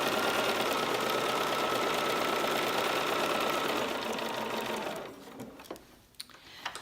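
A sewing machine stitching quilt pieces runs loud and steady with a fast mechanical chatter, then stops, leaving a few light handling clicks and taps.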